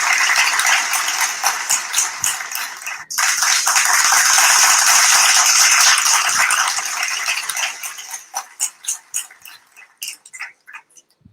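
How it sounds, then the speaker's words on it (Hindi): Bursts of applause for a trainee in an online freelancing lecture: dense, fast clapping that breaks off sharply for a moment, resumes, then thins into a few slowing individual claps that fade out. "आपके लिए हम डिजिटल क्लैपिंग करेंगे।"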